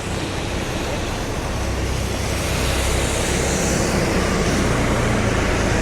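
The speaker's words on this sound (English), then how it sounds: "It's very windy and nasty." Wind blows steadily along a rainy West 34th Street, a broad, even roar with no clear breaks.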